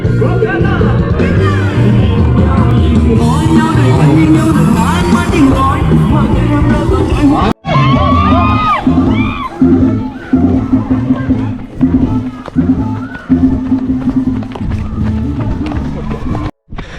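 Roadside spectators cheer and call out along a full marathon course at Chom Bueng, with crowd babble and shouts close by, steady footfalls running through, and a runner's voice talking over the din.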